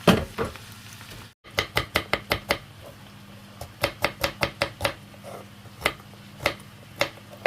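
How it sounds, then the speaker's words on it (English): Carrots cut up small on a chopping board, sharp knife knocks in quick rhythmic bursts of several strokes each, close and clear over a faint kitchen hum. "clean the carrots, cut them up small"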